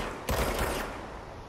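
A gun fires in the video game Control as a single loud, close burst that hits suddenly and then trails off through a roomy decay.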